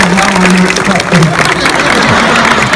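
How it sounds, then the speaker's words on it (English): Crowd applause at an Edinburgh International Festival performance, steady dense clapping over about three seconds with a voice or tonal sound running through the middle. "Stupid people clapping."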